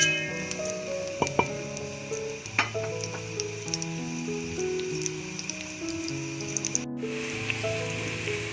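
Sliced onions frying in hot oil in a pan for keema salan, a dense, steady sizzle and crackle with occasional louder pops and stirring scrapes throughout.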